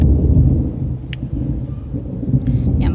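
Thunder rumbles low and steady through a heavy wind and rain storm, a continuous loud roar of wind and rain with deep rolling booms underneath, and a voice faintly present.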